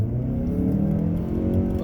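A 2020 Mazda CX-30 in sport mode accelerating on the Atlanta Motor Speedway, a steady loud engine drone with a rising whir, close and continuous without speech.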